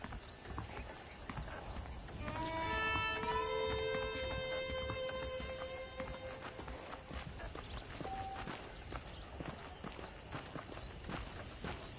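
Rhythmic clip-clop of horse hooves walking in the video game Red Dead Redemption, fairly quiet, with faint tonal game sounds and music in the background; no talking.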